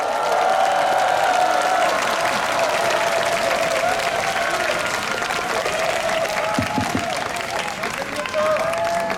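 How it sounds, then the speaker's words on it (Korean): Sustained applause with scattered cheering from a crowd at a university rally in Seoul, as a student speaker is welcomed; dense, steady clapping fills the whole stretch. "큰 박수로 환영해 주시면 감사하겠습니다"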